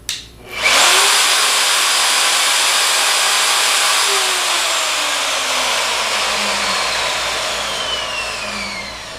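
A Milwaukee 5616-24 router motor starts up smoothly and ramps quickly to a loud, steady high-speed whine that holds evenly at close range, with no talking.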